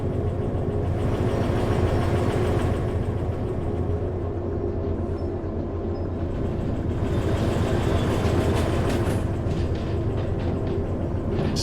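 Diesel locomotive in the Derail Valley train simulator, a steady rumbling engine drone with some rattling and brief clanks, loud and continuous with no talking.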